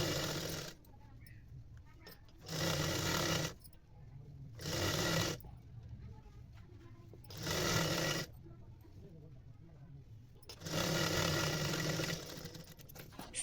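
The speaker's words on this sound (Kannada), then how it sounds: "ಈಗ ಇನ್ನೊಂದು ಕಡೆನೂ ಅದೇ ರೀತಿನೇ ಡಬಲ್ ಫೋಲ್ಡಿಂಗ್ ಮಾಡಿ ಸ್ಟಿಚ್ ಹಾಕೋಬೇಕು" A sewing machine stitches a double-folded skirt hem in four separate runs of steady, close mechanical whirring, with quieter pauses between them.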